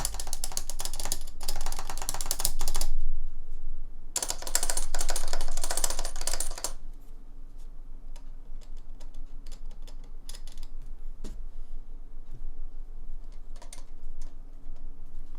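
Typing on a mechanical keyboard with a metallic rattle from the stabilizers: dense, clattery bursts of keystrokes, loud and close, with short pauses between runs and no speech.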